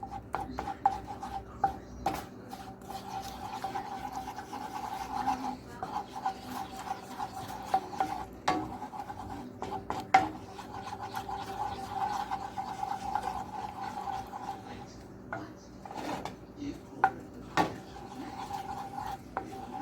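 A spoon or utensil scrapes and rubs steadily around a bowl, stirring a batter-like mixture to break up clumps, with scattered sharper knocks against the sides and no talking.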